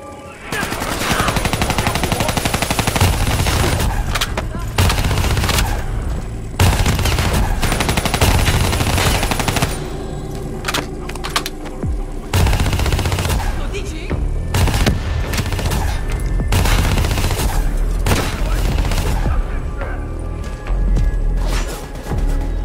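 Heavy gunfire in the campaign of Call of Duty Black Ops 3, a video game: long stretches of rapid automatic bursts and single shots, loud and dense, broken by short pauses, with occasional game voices between volleys.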